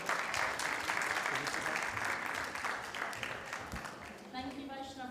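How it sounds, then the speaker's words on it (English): An audience at a Hare Krishna temple event claps in a big round of applause, a dense patter that slowly thins toward the end as a voice begins to come through. "A big round of applause, everyone."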